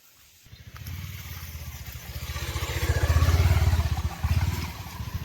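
A motorcycle rides along a forest road, its engine chugging in a rapid, even pulse that swells louder as it accelerates and then eases, with rattling clatter near and no speech.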